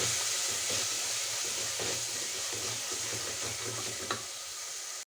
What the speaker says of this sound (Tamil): இப்போ இது நல்லா சிம்மில் வதக்குங்க